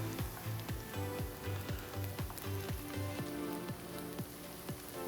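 Onion and garlic frying in a pan, a steady close sizzle with occasional crackles and pops.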